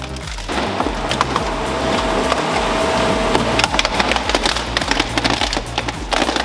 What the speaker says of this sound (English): There's something oddly satisfying, almost aesthetic, about this slow-speed shredder with orange tree trunks.